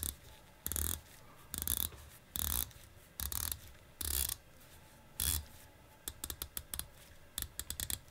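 A Zelos stainless-steel dive watch's 120-click unidirectional bezel is turned in short bursts of crisp, rapid ratcheting clicks, close and clear, separated by brief pauses; no talking.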